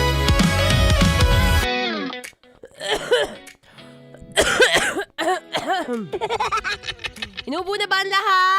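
A radio host on a live Manila show gives a couple of sharp, close coughs before breaking into chuckling speech. Her voice carries an effects-processed quality throughout.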